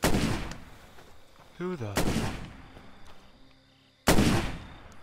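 Shotgun blasts in the video game State of Decay, three loud, sharp booms spaced about two seconds apart, each decaying quickly, with a brief spoken exclamation between the first two.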